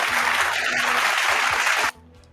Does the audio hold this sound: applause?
yes